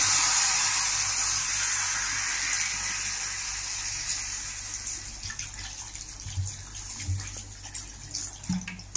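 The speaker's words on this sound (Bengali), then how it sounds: "জল দিয়ে দিলাম।" Water pouring and splashing into a pan of sour-sweet fish-head curry, a steady hissing stream that settles into softer bubbling and clinks near the end, close and alone without talk.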